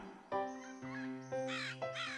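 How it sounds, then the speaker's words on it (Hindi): A cartoon crow in an animated children's story caws four times in a rhythmic series, loud and close, with the harsh calls rising and scraping over a sustained musical backing. "कुछ घंटों बाद कौवा अपने घोंसले के पास लौटा।"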